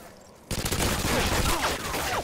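Rapid automatic gunfire from Modern Warfare 2 erupts suddenly after a brief quiet, a dense, loud burst of shots continuing without a break to the end.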